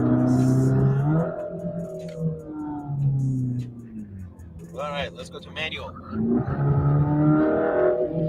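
A Porsche 944 engine in a racing video game revs and shifts through rising and falling tones, steady and prominent, with someone talking over it.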